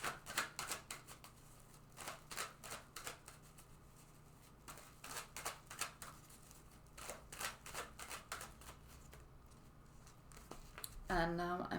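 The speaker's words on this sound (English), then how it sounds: "So I'm going to shuffle this deck now." A tarot card deck shuffled by hand, repeated soft rhythmic riffles and card slaps at close range, faint and steady, ending in a brief louder rustle.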